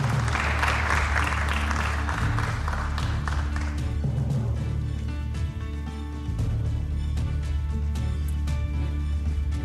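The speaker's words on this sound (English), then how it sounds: "You can give them a round of applause." Applause from the audience at a Nairobi political debate as an independent candidate is called to the stage, continuous and fairly loud, blended with steady hum and tonal background sound from the venue.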